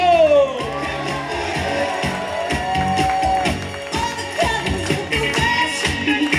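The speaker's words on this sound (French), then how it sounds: "un tonnerre d'applaudissements pour notre valet bleu, Hugo" Audience at a holiday resort show clapping and cheering for a staff member introduced on stage, steady dense applause with whoops and shouts, a voice talking and music-like tones running through it.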